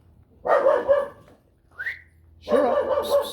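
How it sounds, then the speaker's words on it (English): Dogs let out two bursts of whiny, yelping barks separated by a pause, with a brief high whine in between. "Oh boy, everybody barking."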